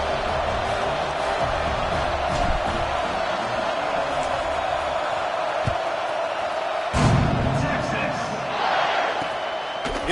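Crowd noise filling a football stadium during a kickoff, a steady broad roar with a louder swell partway through, heard under a play-by-play announcer's commentary.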